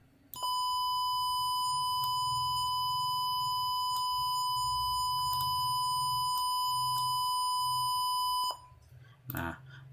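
Buzzer on an IoT relay circuit sounds a steady, loud electronic tone of about eight seconds with faint clicks through it, then stops, followed by a brief soft knock.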